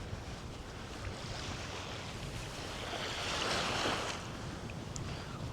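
Surf washing onto a small, clean beach on Okinawa, a steady broadband wash of breaking waves that swells gradually toward the middle, mixed with wind buffeting the microphone and no voices.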